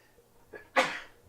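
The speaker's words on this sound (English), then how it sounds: "Sorry, I keep sneezing." A single sneeze bursts out at about 0.8 s after a faint intake of breath, moderately loud against a quiet room, from a teacher in the middle of a math lesson on regression lines.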